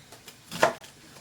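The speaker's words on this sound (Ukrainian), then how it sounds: "Поки обсмажується морква, я нарізаю цибулю." A single knife chop strikes a cutting board, slicing onion into rough chunks, a short crisp thud with faint softer taps around it.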